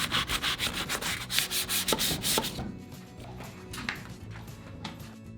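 Sandpaper rubbed by hand along a distressed farmhouse furniture piece, working into a corner: rapid, rhythmic scratchy strokes, loud and close for the first half, then lighter, sparser rubbing.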